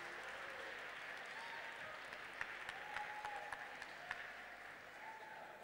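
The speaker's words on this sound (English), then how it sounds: "But give round of applause." Audience applause at a runway show, a steady wash of clapping with a few sharper claps standing out and some faint voices and whoops mixed in, moderately distant and continuous throughout.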